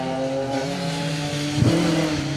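A Peugeot rally car on a stage of the Colin Ellmore Memorial Rally revs hard with shifting engine tones, a sharp pitch drop and surge near the end, loud and close.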